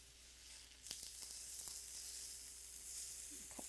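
Food browning in a pan with just a little oil, a bright continuous sizzle with occasional sharp spits and crackles, close and quiet, no voices.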